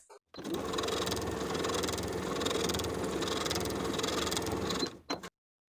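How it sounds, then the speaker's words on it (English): A sewing machine runs in one steady, even burst of about four and a half seconds, edge stitching straight across a folded pocket on a child's jumper. It stops abruptly and is followed by a couple of small clicks. "I'm going to edge stitch that bottom inner fold in place, sewing straight across"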